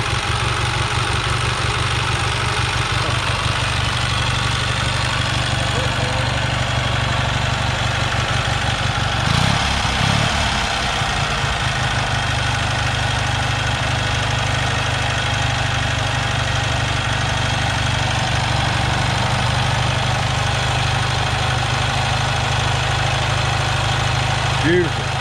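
An antique motorcycle engine idles steadily at an antique motorcycle meet, a continuous low rumbling throb with mechanical clatter, close and loud throughout, with voices faintly beneath it.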